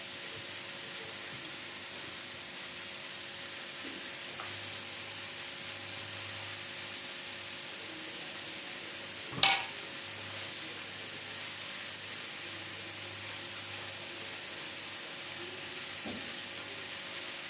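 Garlic fries quietly in a pan with fresh green chillies, giving a faint steady sizzle throughout, broken by one sharp clatter near the middle and a few soft knocks.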